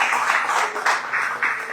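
Church congregation clapping, a steady, moderately loud patter of many hands with rhythmic surges, heard at some distance in a reverberant hall.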